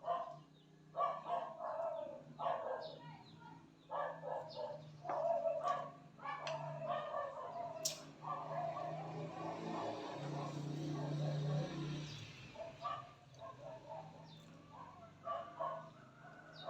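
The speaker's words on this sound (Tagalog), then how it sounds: "Ang ingay ng aming aso." A household dog in a Philippine home barks in repeated bursts, moderately near, with rooster and chicken calls mixed in and a low steady hum underneath.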